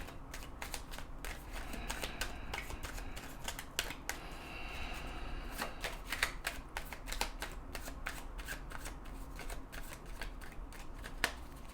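Oracle cards are shuffled by hand, with rapid, crisp riffling and flicking bursts in irregular clusters, close and fairly quiet, with no voices.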